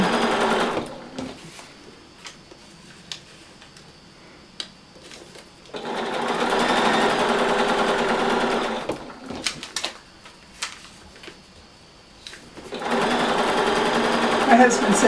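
Sewing machine stitching in several runs, a steady loud mechanical whir that starts and stops, with a person talking in the pauses between runs.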